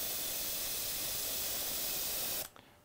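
Badger airbrush spraying out paint, a loud continuous hiss of air and paint that cuts off abruptly near the end, leaving near silence.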